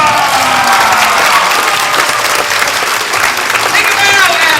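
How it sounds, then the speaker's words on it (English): Large stage-show audience applauding a volunteer named Adam, dense steady clapping with some cheering, loud and close throughout, a voice faintly underneath. "Everybody give Adam a big, huge round of applause!"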